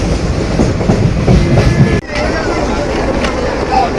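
A passenger train rolling along the rails on a journey, a loud continuous rumble with rhythmic clattering of the wheels, heard from inside the carriage with a brief dip midway and faint background chatter.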